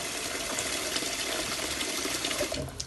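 Water pours into a bowl of rice being washed, a continuous splashing gush for a few seconds at close range with no talking.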